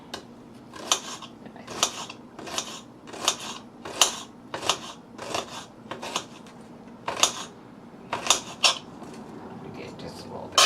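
A kitchen knife slices through an onion on a cutting board with about a dozen crisp, evenly spaced cuts, each a sharp near chop, while people chat quietly in between.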